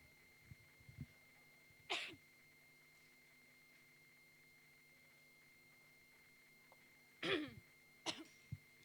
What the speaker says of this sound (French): Je ne tousse pas parce que je suis particulièrement émue par cette œuvre